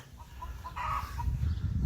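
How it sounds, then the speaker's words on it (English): A Muscovy duck gives a few soft, low clucking calls close by, followed by a louder burst of hoarse, breathy vocalizing over a steady outdoor rumble. "it's another Muscovy duck"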